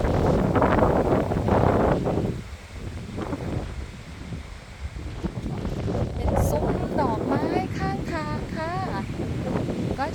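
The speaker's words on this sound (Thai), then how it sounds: "ลมแรงค่ะ วันนี้ลมแรงมากๆเลยอะค่" Strong wind in the Netherlands buffets the microphone with a steady rough roar. The gusts ease briefly midway, and faint bird chirps come through near the end.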